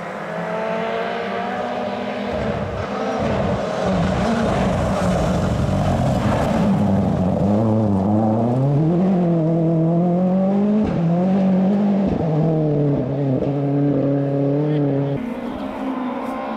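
Rally cars compete on a forest stage, engines droning loudly and shifting pitch as they rise and fall through gears, revving hard close by for a sustained stretch with a brief dip near the end.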